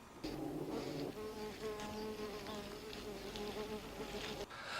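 Honeybees (Apis) buzzing around the hive, a dense, continuous close hum of many wings with overlapping droning pitches, steady and fairly loud throughout.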